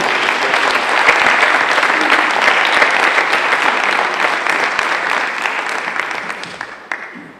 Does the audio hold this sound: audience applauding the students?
yes